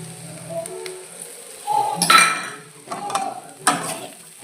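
Potato and cauliflower stirred and fried in a pan for bhujia, with a spatula scraping and clinking against the pan in a few separate bursts over a quiet background.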